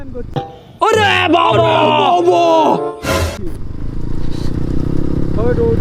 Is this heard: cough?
no